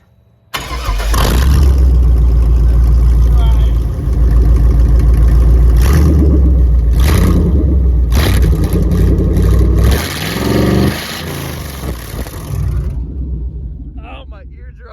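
A Chevy 3500 pickup with partly redone exhaust fires up and revs hard, its loud, rough engine roaring close by for most of the span before easing down, with a voice speaking over it.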